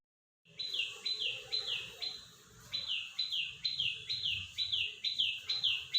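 After a moment of silence, a sparrow chirps repeatedly in a steady run of bright, even notes with a short pause partway, over a quiet low rumble, near a rooftop home garden.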